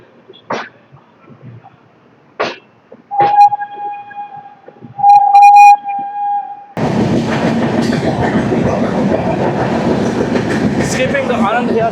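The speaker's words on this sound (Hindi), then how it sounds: "लेकिन ट्रेन एक ठीक ठाक स्पीड को प्राप्त कर चुकी है।" Shatabdi Express train pulling out of platform 16 at New Delhi and picking up speed: a few isolated clunks and a sustained tone, then a loud, steady rumble of rolling wheels and carriage noise that continues to the end.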